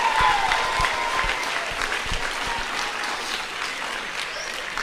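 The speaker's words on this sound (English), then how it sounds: "Give those guys both another round of applause real quick." Students and staff at a middle school assembly clap in a big room, loud applause at the start that gradually thins and fades over several seconds, with no talking.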